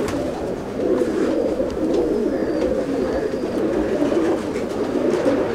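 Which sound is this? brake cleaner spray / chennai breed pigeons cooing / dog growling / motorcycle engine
chennai breed pigeons cooing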